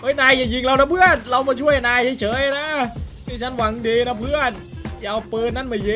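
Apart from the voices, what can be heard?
None of the usual background noises is heard.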